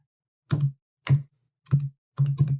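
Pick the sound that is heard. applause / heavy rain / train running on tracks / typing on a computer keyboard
typing on a computer keyboard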